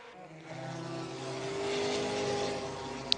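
Nissan 300ZX race car at Le Mans heading slowly into the pits with a problem, a steady engine drone with rising tonal whine, moderately close, ending in a brief sharp peak.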